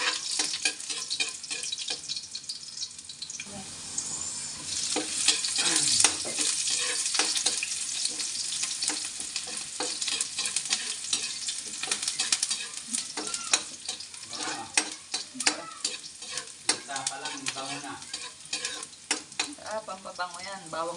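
Garlic and onion fry in a pan as the base for chicken curry, a steady close sizzle broken by repeated scraping and stirring strokes throughout.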